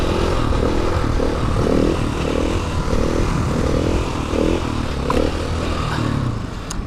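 A motorcycle engine is given gas for a wheelie, a loud steady drone with rhythmic pulses of throttle, close by and continuous.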